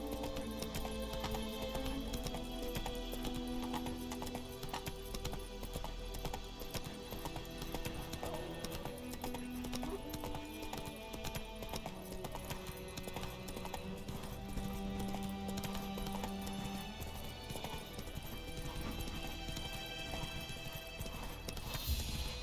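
Roach the horse trots steadily in The Witcher 3, hooves clip-clopping in an even rhythm with some faint background sounds for the whole stretch.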